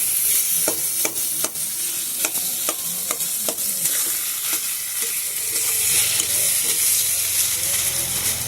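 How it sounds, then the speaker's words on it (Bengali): Steady loud sizzling of a potato, cauliflower and pea kachori filling frying in a pan, with regular scraping and clanking strokes of a spoon stirring through it. "ভালো করে নেড়ে চেড়ে আমি এটাকে ভাজা ভাজা মতন করে নেব"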